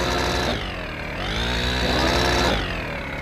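A carbureted Fan 125 motorcycle engine is held against its rev limiter, with loud, close, buzzing high revs that dip and surge repeatedly as the limiter cuts in, and no voices.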